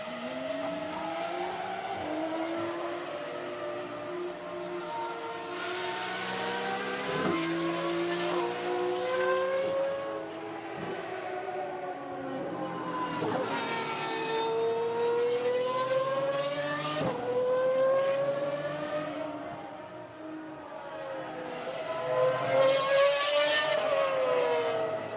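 GT1 race cars scream around the Barcelona circuit, engines revving hard through upshifts and downshifts, several cars overlapping in rising and falling wails, loud and continuous, swelling as they pass close and fading slightly between.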